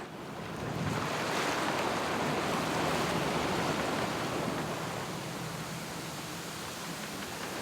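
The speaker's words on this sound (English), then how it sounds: "And the wind has been really back and forth all day today. And it's whipping around here" Strong wind whips around a sailing boat at anchor, a loud continuous rushing roar with gusty buffeting against the microphone, with wave wash mixed in.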